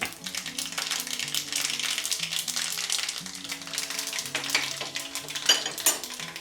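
Mustard seeds and cumin crackle and sizzle in hot oil, a dense continuous spitting with pan clatter and a low musical tone running underneath throughout.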